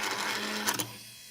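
Small electric cooling fans, rated at 260 mA, rattling harshly for lack of lubrication on a frequency converter and charger test bench; a steady buzzing whir with a brief clattering burst near the end, close and fairly quiet.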